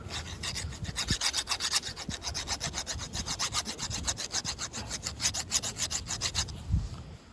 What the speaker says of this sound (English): we're gonna file out this little corner and this little corner